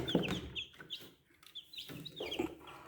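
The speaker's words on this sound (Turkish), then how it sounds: "İçindeki civcivlerimize bir bakalım. Neler var çünkü biraz ses geliyor." High chirpy peeping from chicks inside an incubator on hatch day, repeated short calls in uneven bursts with a few lower clucks, close and moderately loud.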